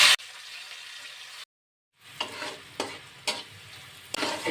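Capsicum fries in hot oil in a wok, giving a steady sizzle that cuts out briefly, then returns with periodic scraping stirs.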